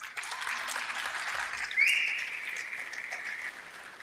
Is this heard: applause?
yes